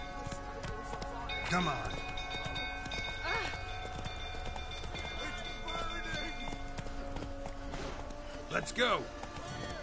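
The horse Roach in a video game gallops with steady rhythmic hoofbeats under game ambience, while a voice speaks briefly over the running.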